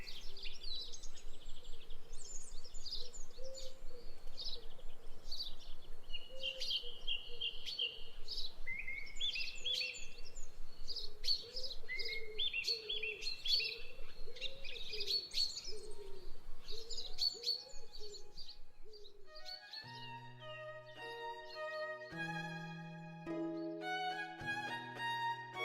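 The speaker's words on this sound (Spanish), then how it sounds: "Oigo el último pájaro." Birds chirp and coo outdoors, with scattered small tweets above a low repeating dove-like coo. After about twenty seconds the calls give way to sustained musical tones.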